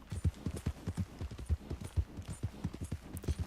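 Horse hooves clip-clop in a steady trotting rhythm in Red Dead Redemption 2, with many evenly spaced dull thuds that sound close but quiet and are heard alone.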